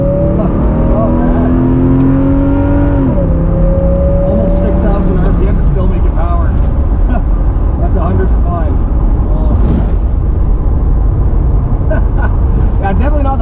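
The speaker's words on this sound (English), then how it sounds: "It just sounds like a race car" A Pontiac Trans Am, a Bandit car bought cheap off a marketplace, revs loudly and continuously on its first drive, the engine pitch climbing and dropping over a steady rumble while people talk inside the car.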